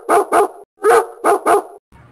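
A dog barks five times in two quick pairs around a single louder bark, close and loud, with no talking, then falls quiet.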